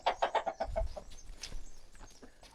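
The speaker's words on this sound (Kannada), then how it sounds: "ಈ ಕೋಳಿ ಉಂಟಲ್ವ ಡಿಸ್ಟರ್ಬೇ ಮಾಡೋದು" A chicken clucks in a quick rhythmic series of close, fairly faint calls during outdoor rock bee honey harvesting, followed by a few scattered softer sounds.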